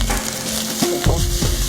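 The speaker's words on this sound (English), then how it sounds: "To break up the clumps, give the rice a good stir" Day-old cold rice being stir-fried in very hot oil over a wood fire, with a continuous close sizzle and the scrape of stirring cutting through in short strokes.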